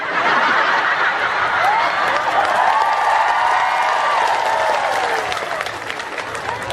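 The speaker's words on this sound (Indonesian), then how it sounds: "Bentar-bentar tepuk tangan maksudnya apa?" An audience at an Indonesian religious lecture breaks into sustained, dense applause mixed with scattered chuckles, holding steady for several seconds before easing slightly at the end.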